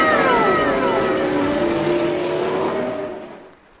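A toy Lightning McQueen race car plays a loud, whining engine rev whose pitch sweeps downward over a few seconds, then fades out with no talking.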